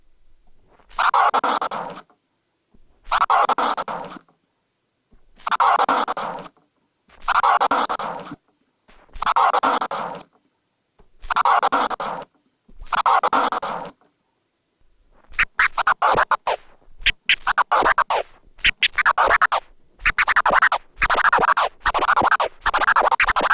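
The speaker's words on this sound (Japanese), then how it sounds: "この2クリックフレアスクラッチですね" DJ turntable two-click flare scratches on a record, at first as slow, evenly spaced strokes with gaps, then as a quicker, chopped run of rapid cuts, loud and close with no talking.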